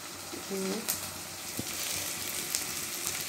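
Mustard seeds, cumin and curry leaves sizzle in hot oil for a homemade cauliflower and tomato curry, a steady close hiss with small pops and a couple of clinks, while a voice talks briefly.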